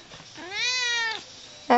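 A cat meows once in a long, clear, drawn-out call close by, followed by a short start of a second meow; no talking.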